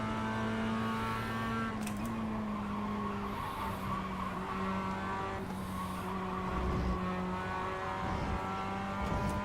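A race car in the iRacing video game drives past with a steady, droning engine and sustained tire skid and squeal. The sound runs continuously for the whole stretch, with no talking.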